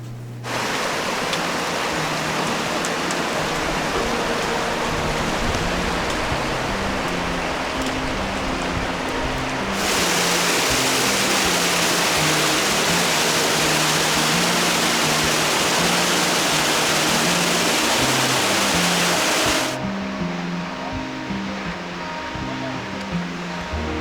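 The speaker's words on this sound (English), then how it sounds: "And at the foot of the waterfall," A waterfall at Yosemite National Park, heard as a loud, constant roar of rushing, crashing water that fills the whole scene without a break; a faint voice may pass underneath.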